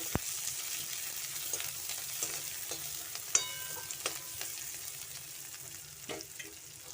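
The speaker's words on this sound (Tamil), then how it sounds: "வெங்காயத்தை நல்லா பொன்னிறமாகிற வரையும் நல்லா வறுத்துக்கோங்க" Soft, quiet sizzling of onions frying toward golden brown in a pan, with occasional clicks and scrapes of stirring.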